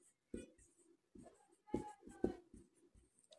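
Pen writing on paper while solving a Class 10 maths equation: quick scratchy strokes in irregular bursts with short pauses, close and fairly quiet.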